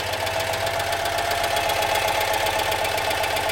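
A Citroën Dyane 4 from 1969 with its 435 engine, carburettor badly adjusted and accelerator pump dead, runs at a steady, loud idle, a continuous buzzing drone with a fast, even knocking pulse and no talk.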